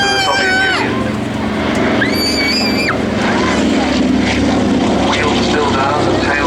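A BBMF C-47 Dakota twin-propeller transport plane flies at the Cosford Air Show in 2014. A steady, loud engine drone fills the whole stretch, with voices carrying over it throughout.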